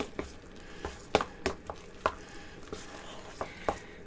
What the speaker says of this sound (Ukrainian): І тепер цю цибульку відправляємо до тіста. Перемішуємо.